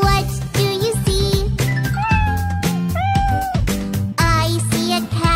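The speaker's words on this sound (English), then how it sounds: "I see a cat. Meow, meow, meow." A few meows ring out over a bouncy music backing, rising and falling in pitch between the beats.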